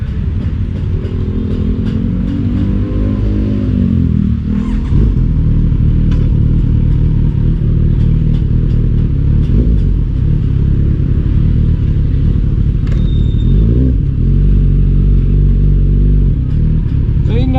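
Car exhaust fitted with a cat delete and resonator at a muffler shop, a loud, steady close-up drone with a couple of swelling revs near the start and again midway.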